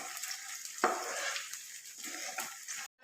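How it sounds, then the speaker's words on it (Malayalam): Garlic sautéing in butter over a low flame in a pan, a soft steady sizzle with occasional stirring scrapes, close and alone, cutting off abruptly near the end. "നമുക്ക് ഈ വെളുത്തുള്ളി ഒന്ന് വഴറ്റി കിട്ടണം കേട്ടോ."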